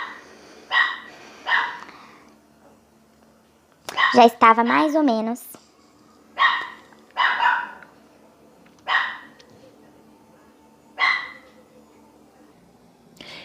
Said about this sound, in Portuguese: Nem gravando de noite, a cachorra não para de latir.